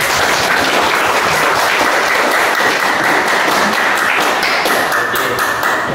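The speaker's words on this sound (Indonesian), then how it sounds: "tepuk tangan untuk" Students in a high school coding class clap together in close, loud applause, a dense, even patter of hands that carries on steadily from start to finish.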